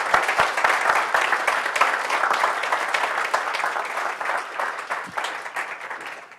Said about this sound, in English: how about a round of applause for Spoons?